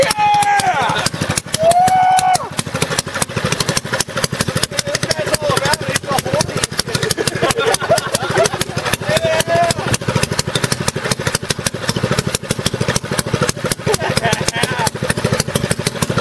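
A nitrous oxide mini bike engine runs with a rapid, rattling put-put close by, revving briefly at first, then settling into a steady, loud chug for the rest, with voices talking and shouting over it.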